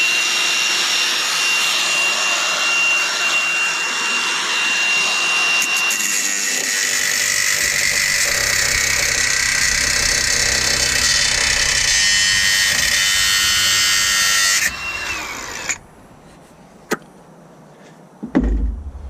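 A loud power tool whines steadily while cutting down an overlong bolt during brake pad and oil spinner filter repairs on a Mercedes Actros truck, the pitch dropping as the cut bites, then stopping, followed by a few clanks.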